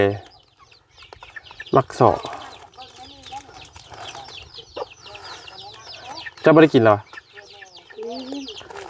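Chickens cluck near the microphone, with two loud squawking bursts standing out, while people talk in Thai throughout.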